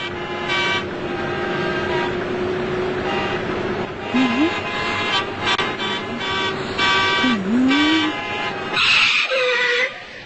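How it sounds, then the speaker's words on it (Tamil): Car horns honk in repeated bursts over steady road traffic, with engines rumbling nearby, in a cartoon episode. "எதுக்கு பீ பீன்னு ஹார்ன் அடிச்சிட்டு இருக்கீங்க?"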